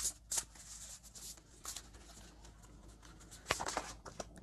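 Oracle cards are shuffled close up in soft, irregular riffling flutters and taps, quiet and alone with no talk.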